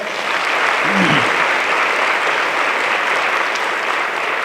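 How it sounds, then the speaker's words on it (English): Steady, dense applause from a large audience at a motivational speaking event, thanking organizers and volunteers; the clapping stays loud and even throughout, with no speech over it. "give them a round of applause"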